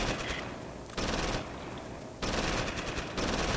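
Gunfire in the video game Close Combat Invasion Normandy: dense machine-gun bursts in three long volleys, loud and rapid, with brief drops between them.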